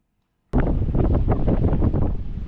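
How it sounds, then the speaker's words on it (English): Sudden loud wind buffets the microphone high up at a siding job in Tennessee after a moment of silence, a rough continuous roar with gusty rumbling. "it is really windy up here"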